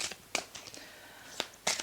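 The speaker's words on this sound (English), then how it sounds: "I'm shuffling for the last card" Tarot cards are shuffled quietly up close: a few soft, brief riffling bursts with short pauses between them, heard alone.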